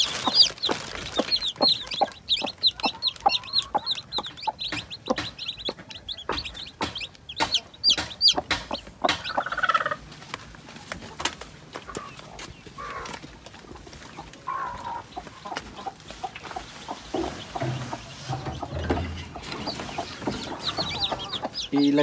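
A mother hen clucks close by amid a flurry of high, rapid peeping from weak young chicks, the chatter busy and continuous.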